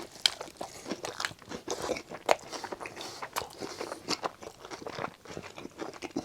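Close, crisp bites and crunchy chewing of a Burger King SpongeBob Krabby Patty burger, repeated irregular crunches and wet mouth sounds with no talking.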